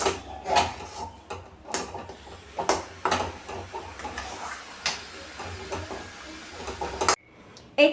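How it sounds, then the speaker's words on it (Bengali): Rice flour dough for kuli pitha is stirred in a pan, making an irregular run of scraping and knocking strokes against the metal at moderate volume, with no clear talk. "আমি কিন্তু এখন ভালো করে এটাকে মিক্স করে দিচ্ছি নেড়ে নেড়ে"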